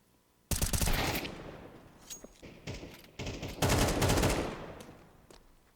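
Rapid bursts of automatic gunfire in Counter-Strike on the Overpass map during a competitive esports match, loud and dense with short pauses between volleys and a few isolated shots.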